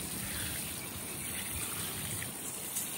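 Water is poured over freshly sown seeds in a rooftop garden, producing a steady, close trickling wash with no pauses.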